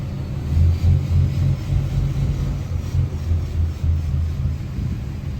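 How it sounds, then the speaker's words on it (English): An old farm truck working the canola harvest in November rolls by with a steady low engine rumble, moderately loud, with no voices. "Oh, it is their truck."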